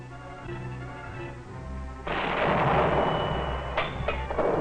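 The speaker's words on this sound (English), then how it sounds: "The gun crews, with the help of forward observers, translates information into firing data that sends the shells on their way" Artillery guns firing shells at a 1953 Army training range, a deep rolling boom that breaks in at once and rumbles on, with later sharp cracks over a low engine drone.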